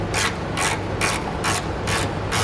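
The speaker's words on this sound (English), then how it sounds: "Now we can grab a 14mm socket and tighten these down the rest of the way." A ratchet driving a 14mm socket to tighten bolts on a 2014 Honda CR-V base plate install, with rapid rhythmic clicking in six even back-and-forth strokes, close and clear with no talking.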